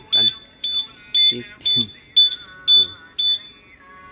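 Modified keyless key alarm on a Fox-R motorcycle beeping in a steady series of about seven short, sharp electronic chirps at regular intervals, with someone speaking briefly in between.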